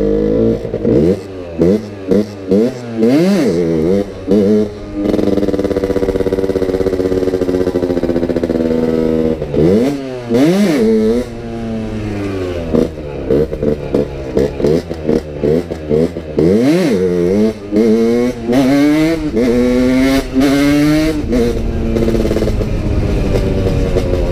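A motorcycle engine revs hard again and again during wheelie attempts, with rising and falling throttle sweeps, brief drops between bursts and some clatter, loud and close throughout, with no talking.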